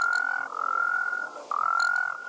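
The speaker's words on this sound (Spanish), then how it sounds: "Su croar nos relaja." Frogs croaking in an Ecuadorian city setting, a steady nasal croak held for about half a second at a time in repeated bouts, loud and close with no talking.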